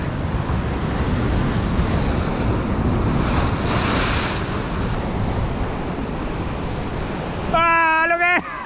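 Loud sea surf crashes and rolls steadily close by on a shore where anglers are fishing for pollock, with strong wind buffeting the microphone throughout and a brief burst of voice near the end.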